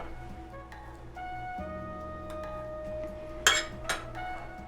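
A spoon stirs coffee in a small pot, giving quiet scraping and a couple of sharp metallic clinks near the end against a low background hum.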